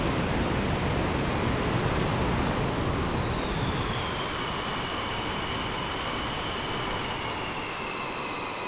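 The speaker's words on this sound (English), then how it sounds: "So, let's lift off. V1 rotates. Very nice takeoff." An F-15I jet takes off with a loud, continuous broadband engine roar that fills the whole stretch, heard steady and close with a faint rising whine partway through.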